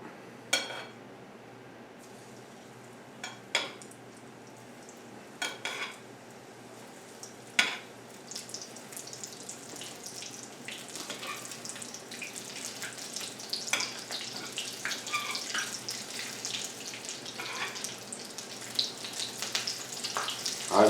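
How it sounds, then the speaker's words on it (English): Calamari pieces drop into hot oil in a small pan and deep fry, scattered splashes and clicks at first, then a steady crackling sizzle building louder up close, with no voices. "The oil's hot, and let's fry up a couple and show you how this looks."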